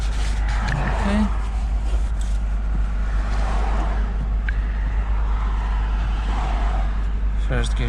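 A repaired, previously crashed Porsche Boxster 986 on its first drive, a steady engine hum and road rumble heard from inside the car, with people talking over it.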